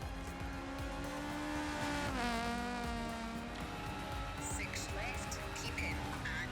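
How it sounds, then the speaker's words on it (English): A front-wheel-drive 2-litre rally car engine in EA Sports WRC revs hard, holding a high buzzing whine that drops and climbs again, with a voice talking over it. "Absolutely wringing the neck out of this 2-litre engine."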